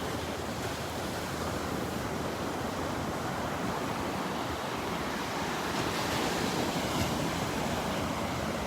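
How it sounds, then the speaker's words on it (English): Ocean surf breaks steadily along a beach at Delnor-Wiggins, a continuous loud wash of waves with some wind rumble against the microphone and no pause throughout. "Share the sound of the waves."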